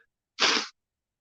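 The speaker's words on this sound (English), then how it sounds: "I sneezed." A single short, sharp sneeze outdoors at a lake while catfishing, one loud burst standing alone against silence.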